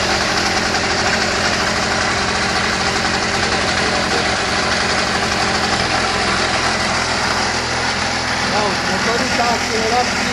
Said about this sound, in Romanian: Motorul s-a accelerat singur.